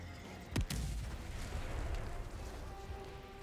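Artillery fire in the video game Helldivers 2 lands as one sharp, heavy blast followed by a rolling rumble that slowly fades, with a second dull thud and a constant low background roar after it.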